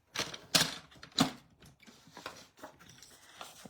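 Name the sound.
paper trimmer cutting card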